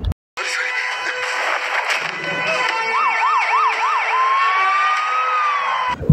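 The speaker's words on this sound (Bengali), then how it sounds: "একটি পুলিশের গাড়ি হর্ন বাজিয়ে তাদের দিকে এগিয়ে" A police car siren from an action movie trailer wails in repeated rising-falling sweeps, then shifts to a long steady rise, loud and near over a dense, busy background mix of music and effects.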